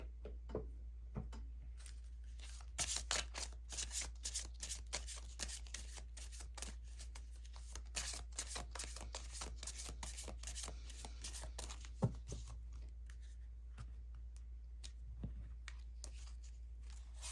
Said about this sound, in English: let's get you a couple Witchlings cards from this deck here